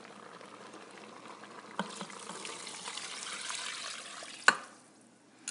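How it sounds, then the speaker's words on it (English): Steady soft bubbling and simmering of pot roast in beef broth in a pressure cooker, a continuous low gurgle with a sharp click near the end. "You can hear it bubbling."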